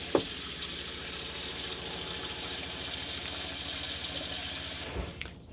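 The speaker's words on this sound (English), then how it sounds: "So if I just pop the tap on" Water runs steadily from a tap into a white sink inside a Mobilvetta motorhome, a constant close hiss and splash that stops abruptly near the end.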